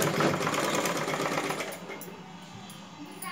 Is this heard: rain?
no